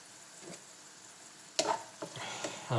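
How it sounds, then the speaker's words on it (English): Frozen onions begin to sizzle in a pan, a soft, steady fry with a few sharper crackles and stirring scrapes toward the end, quiet and close. "we're going to have just the onions in there a little bit, just let them kind of thaw and start to cook"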